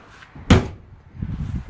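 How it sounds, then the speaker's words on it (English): The entry door of a 2020 Flagstaff SuperLite 529BH fifth-wheel RV closes over folded steps with a single solid thump, followed by faint rattling and handling noise. "And then the door will close right over top."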